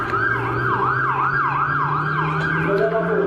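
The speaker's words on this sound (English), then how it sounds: "The ambulance. ambulance is here." An ambulance siren wails continuously, its rising and falling tone repeating steadily, loud and fairly close over rumbling road noise, with no talking.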